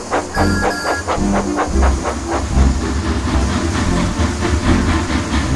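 A steam engine train chuffs along in rhythmic puffs over a steady hiss of steam and low rumbling wheels, loud and continuous with a faint whistle early on, no talking.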